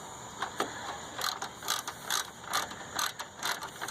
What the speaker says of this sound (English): I'm going to grab my little ratchet